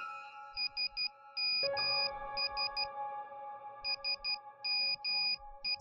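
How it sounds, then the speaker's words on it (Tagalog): A cellphone ringtone of crisp high electronic beeps in repeating patterned bursts, clear and fairly close, over a sustained low droning tone, with no one talking. "muling tumunog yung cellphone."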